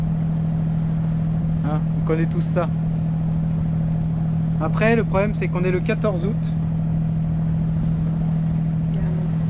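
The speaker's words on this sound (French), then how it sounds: "Parce que c'est un peu pénible le moteur." A sailboat's inboard engine hums steadily and continuously beneath the whole stretch, a constant low drone while people talk over it.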